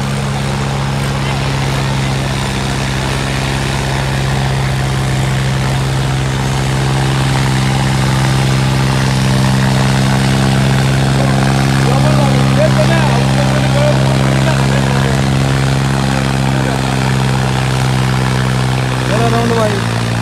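A Sonalika 745 tractor engine runs at a steady, loud drone with strong low harmonics throughout, with some faint background voices and brief tonal sounds near the end.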